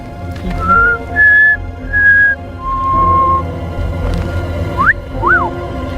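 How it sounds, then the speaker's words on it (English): A person whistles several short tones, a few held notes followed by quick rising and falling slides, clear and close. "whistling."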